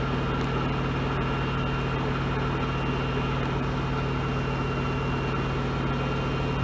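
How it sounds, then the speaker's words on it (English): A Maytag washing machine spinning at full speed, giving a steady, dense whirring roar with a low hum that holds constant and loud throughout, with no talking. "here's the sound of the washing machine who is at the full speed."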